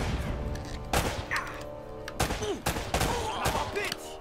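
Gunfire in the video game Uncharted: Drake's Fortune: several loud, close bursts of shots and impacts over game music, with a brief voice exclamation among them.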